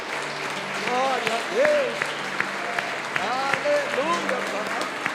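Church congregation applauding during an evening worship service, steady clapping running under a preacher's voice and scattered responses.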